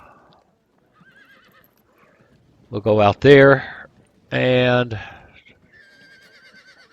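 Horse whinnies from the Field of Glory 2 strategy game, two loud neighing bursts in the middle with someone talking quietly around them.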